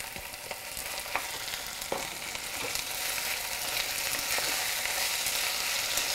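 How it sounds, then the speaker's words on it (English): Chopped Roma tomatoes fry with onions for a rajma curry, a bright continuous sizzle that grows slightly louder, with scattered soft stirring clicks and no talking. "I have 2 chopped Roma tomatoes over here. I'm going to add it along with the onions."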